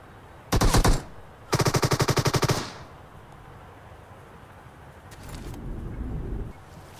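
Automatic gunfire in the mobile game PUBG Mobile: two loud, rapid bursts of shots, a short one followed by a longer rattling volley. A brief faint burst and a low rumble follow after a pause.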